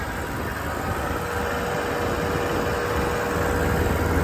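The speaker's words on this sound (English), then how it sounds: "It's a very quiet generator, and it is powering this boom for us right now" A very quiet generator on a 2008 Ford F-350 bucket truck with a 34-foot Versalift utility boom, running as a steady, low, even engine hum that continues on its own with no voices.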